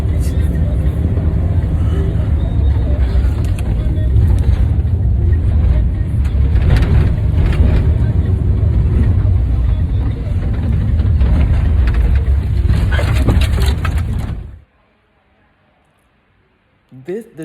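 A car drives through busy traffic in Africa, a steady low engine rumble with road noise and passing vehicles for about fourteen seconds, then it stops abruptly into near silence.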